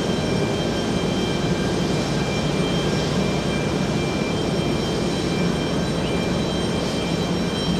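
A jet airliner roars at JFK airport with a loud, steady, broadband engine rumble and no pauses or changes in level.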